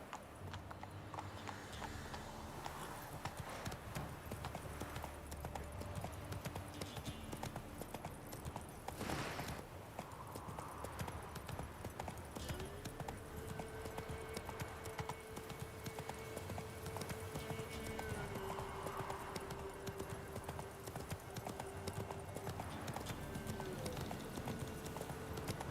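Roach, a horse in The Witcher 3, trots with steady clip-clopping hooves alongside constant ambient game sound, a faint voice and a low sustained tone partway through.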